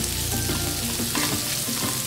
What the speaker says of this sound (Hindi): ये देखिए कितने अच्छे से करेले फ्राई हो रहे हैं।